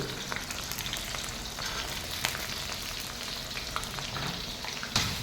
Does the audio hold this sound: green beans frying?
yes